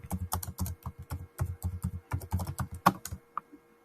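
Close, rapid typing on a computer keyboard, a dense run of sharp key clicks in an uneven rhythm with a few louder strokes near the end before it stops, no voices.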